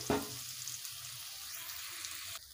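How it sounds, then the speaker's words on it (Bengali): Soya chunks frying in hot oil in a pan give a soft, steady sizzle that holds for a couple of seconds after a brief clatter at the start. "এবারে ওই তেলে সয়াবিনগুলো ভেজে নেব।"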